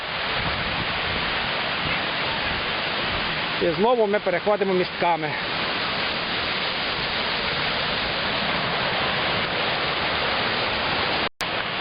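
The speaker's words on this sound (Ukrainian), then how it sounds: "Ось ми вже буквально в кількох метрах від водоспаду" A steady, loud rushing roar of Shypit waterfall heard from a few metres away, where two streams meet, fills the whole clip, with a person speaking briefly over it.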